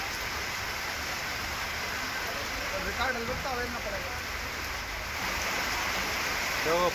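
Heavy rain and floodwater in Bhopal make a continuous loud rushing wash, with a voice speaking faintly under the water noise.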